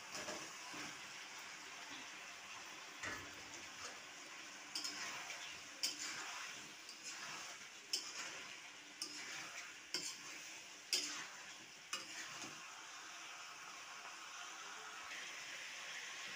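Potatoes tipped into a pan of fried spice paste with turmeric and salt, then stirred, giving a steady soft sizzle with repeated scraping strokes and occasional sharp clinks of a utensil against the pan.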